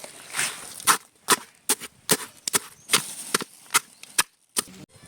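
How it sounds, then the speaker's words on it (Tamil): Sharp, dry crunching and snapping repeats in an uneven rhythm as rusk is crushed into crumbs for bread halwa close by. "பிரெட் அல்வா பண்ண ரஸ்க தூள் தூளா நொறுக்கிடுவோம்."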